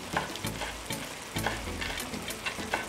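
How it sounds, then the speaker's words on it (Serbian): Vegetables fry in a pan with a continuous close sizzle, broken by regular scraping stirs and soft clinks, with no voices. "Dok se povrće prži"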